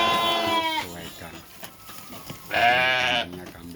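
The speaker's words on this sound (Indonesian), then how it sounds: "Jadi seperti inilah situasi kambing-kambingnya yang sedang pada ragus makan." Two loud bleats from nearby goats at feeding time, one at the start and another a couple of seconds later, with someone talking quietly in between.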